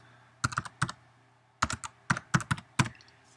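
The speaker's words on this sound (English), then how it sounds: "I'm typing on the wrong keyboard" Quick bursts of typing on a computer keyboard, with irregular clusters of crisp key clicks separated by short pauses. Close and fairly quiet, in a quiet room.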